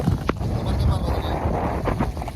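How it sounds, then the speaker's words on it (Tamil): Strong wind buffets the microphone during a flood in Sri Lanka, a continuous rough low roar with gusty swells while faint voices break through now and then. "இன்றைக்கு சரியான காற்று அடிக்குது"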